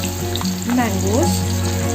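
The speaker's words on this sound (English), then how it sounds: "All the mangoes to the oil" Mango pieces frying in hot mustard oil in a kadai, a steady close sizzle with brief stirring scrapes over a constant background hum.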